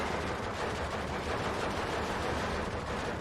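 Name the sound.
MG42 machine gun fire in video game Steel Division 2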